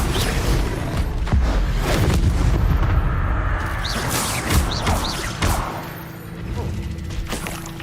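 Incendio fire spell cast during Hogwarts Legacy combat, giving a run of booming, crackling magical blasts and impacts that overlap continuously, loud and close, with dense battle noise and no clear talk.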